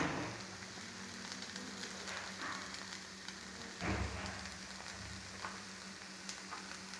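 Food frying gently in a pan over a low flame, a soft continuous sizzle with occasional crackles and a brief stirring scrape, heard close and alone.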